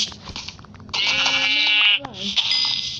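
A sheep in the Minecraft video game gives a long, wavering bleat and then a second one, loud and close, with faint background noise at the start.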